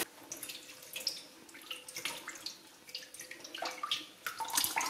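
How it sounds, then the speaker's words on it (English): Cool water runs from a tap into a bowl for rinsing cheese curds, a soft close splashing and trickling with irregular bright bursts, quiet and alone. "I'm going to run some cool water into a bowl"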